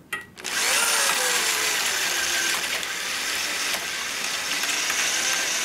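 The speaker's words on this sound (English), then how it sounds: "we're gonna run the chainsaw so that you can see" An electric chainsaw whirs up and runs steadily at close range, a high motor whine over the buzzing rattle of the chain.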